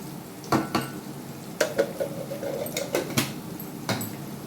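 A spoon stirs homemade tehari spice mix through chicken in a metal pot, making soft scraping and irregular clinks against the pot over a low background, with no talk.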